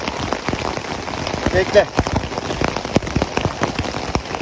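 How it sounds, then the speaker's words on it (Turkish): Rain pattering steadily on a tent during a storm, dense close drops with sharper individual taps scattered throughout, with a brief spoken word and a faint chirp partway through. "Ya yağmurlu havada çadır nasıl kurulur da sırılsıklam olduk var ya."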